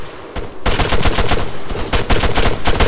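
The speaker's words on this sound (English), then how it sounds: "I just went fully auto and just like literally put all the rounds into him" Sustained automatic rifle fire in Arma 3, a loud rapid string of close shots after a brief single report, with the full-auto burst running almost continuously to the end.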